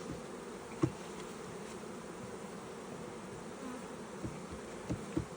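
Honey bees buzzing around an opened nuc hive during a split, a continuous faint hum with a few soft knocks from handling frames, no voices.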